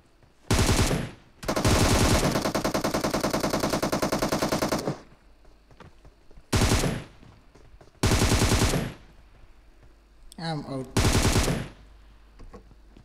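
Automatic gunfire in a PUBG-style battle royale game, with several loud close bursts, one long sustained rattle and shorter volleys separated by pauses.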